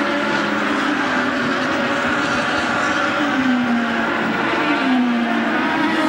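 IndyCar race cars lap the 2010 Honda Indy Edmonton street circuit, a loud continuous engine whine with rising and falling pitch sweeps as cars pass through the corners.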